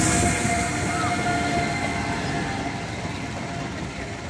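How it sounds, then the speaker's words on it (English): A train pulls into a station on the final leg of a rail journey from Paris to Pamplona, Spain, a loud, steady rumble of wheels and engine with rattling undertones that slowly eases as it approaches. "Here comes the last train for this journey."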